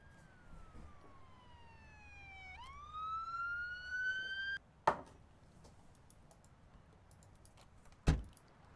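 Ambulance siren in the video game Emergency 4, a single rising wail sweeping upward over several seconds, then cut off, followed by two sharp clicks in an otherwise quiet background.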